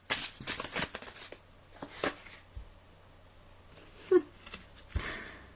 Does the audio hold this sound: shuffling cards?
yes